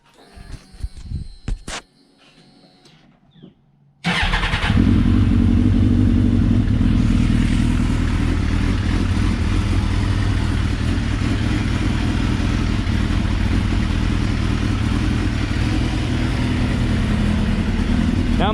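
Suzuki GSXR motorcycle engine, fresh from a spark plug change, starts up inside a garage and settles into a steady, loud, slightly muffled idle that runs on unbroken after a brief quiet pause.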